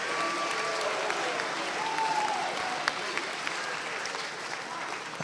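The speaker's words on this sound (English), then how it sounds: "How about a round of applause for Randy Hines?" An audience at a university athletics awards ceremony claps in sustained, even applause, a dense wash of hands heard at moderate distance with a few sharper claps standing out.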